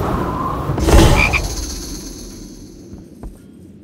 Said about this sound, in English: Turn my warrior into a frog!